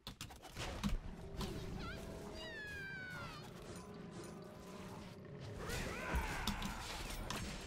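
Bastet's cats meowing during a Smite match, rising meow calls around the middle over a busy bed of mechanical, creaking game noise, with a harsher burst of action near the end.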